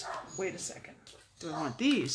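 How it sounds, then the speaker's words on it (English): A dog barks inside a house in a few short yaps, heard behind and between a person's close, ongoing talk. "I think you can probably hear the dog barking."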